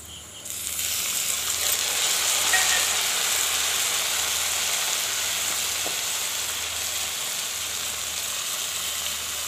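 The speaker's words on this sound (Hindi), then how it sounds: "तड़के में मैं अब टमाटर डाल दूंगी।" Steady, loud sizzling of tomatoes frying in hot oil tempering begins after a brief quiet moment and continues evenly, with no talking.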